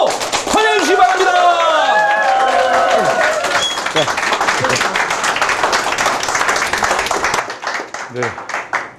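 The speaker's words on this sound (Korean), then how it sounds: "유영만 교수님 큰 박수로 환영해 주시기 바랍니다" A small lecture audience greets a visiting professor with brisk applause that builds and keeps going for several seconds, while an announcer's voice speaks over the opening moments.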